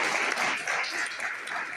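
An audience at a pharmaceutical sciences faculty seminar gives a dense round of clapping, fairly loud and continuous, filling the room with no voices on top.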